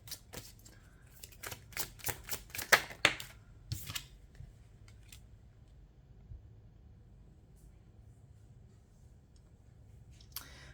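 Tarot cards are shuffled and drawn close by, a run of sharp papery clicks and riffles over about four seconds, then near-silence with a faint low hum and one last tap.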